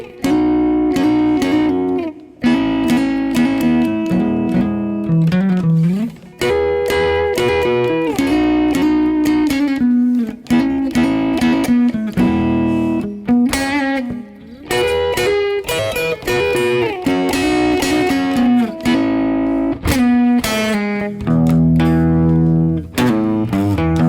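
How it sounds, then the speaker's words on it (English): Electric-style guitar playing piano-like slurs, sliding slowly up into the third of each chord instead of bending strings, a continuous loud melodic passage with sustained chords and smooth pitch glides, no talking. "the guitarists that didn't want to use bends played these slurs like the piano players would"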